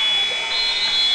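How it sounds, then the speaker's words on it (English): A steady electronic buzzer rings out at the end of a high school basketball game, a sustained loud tone held for over a second above a faint murmur of gym crowd noise. "The buzzer sounds."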